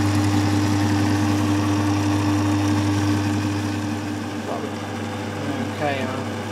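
A Drummond B-type metal turning lathe runs with a steady, loud mechanical hum and drone throughout, and a voice speaks briefly near the end.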